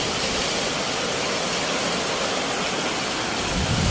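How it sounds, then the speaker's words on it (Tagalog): Heavy rain pours steadily with a dense, roaring hiss, strong wind adding a gusty rush, loud and continuous throughout. "Ang lakas ng ulan. Ang lakas ng hangin."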